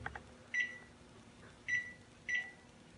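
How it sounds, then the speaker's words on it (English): A kitchen timer gives three short, high electronic beeps while it is being set, one early and two close together near the end, over a quiet kitchen hum with no talking. "So I'm going to set the kitchen timer for about"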